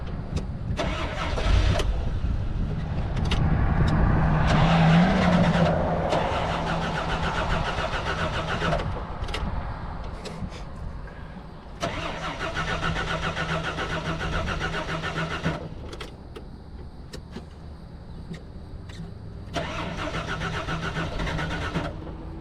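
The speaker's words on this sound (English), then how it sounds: "we're definitely gonna have to adjust the idle a little bit so that it doesn't die every time we stop" A Jeep CJ7 with its top off starts up and idles roughly, a mid-pitched engine rumble that swells as it pulls away and drives, then dips and recovers as if close to stalling.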